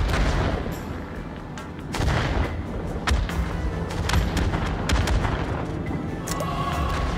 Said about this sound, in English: Oh my god, it's the holy hand grenade!